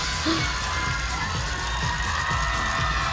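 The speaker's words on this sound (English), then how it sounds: "And you can really hear the crowd cheering loud." A crowd cheers and shouts continuously at a lead climbing final in Koper, a loud dense roar of voices with excited whoops rising over it throughout.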